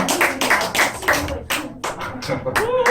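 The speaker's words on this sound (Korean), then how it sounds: "박수 한번 쳐주세요." Children clap in an elementary Sunday school class, a short round of uneven, separate hand claps with gaps between bursts, and a voice speaks partway through.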